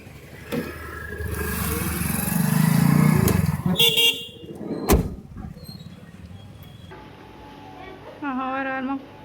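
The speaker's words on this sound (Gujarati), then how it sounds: "તો ગાઈસ યસની ગાડી આવી ગઈ છે" A school vehicle pulls up at a home to collect a child: an engine rumbles close by, a horn honks, a door clunks, and people speak briefly over the mechanical noise.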